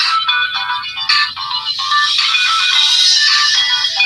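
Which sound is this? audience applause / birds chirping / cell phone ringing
cell phone ringing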